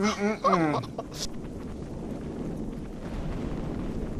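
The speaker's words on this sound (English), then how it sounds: "Watch the airstrikes." Airstrike explosions rumble in a video game match, a sustained low roar of blasts under an excited voice at the start, then continuing alone.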